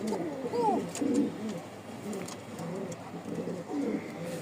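Lahori, Jacobin, racer and lakka pigeons kept for sale in Mirpur-1, Dhaka coo in soft, rolling, repeated phrases close by, with a faint murmur of background noise.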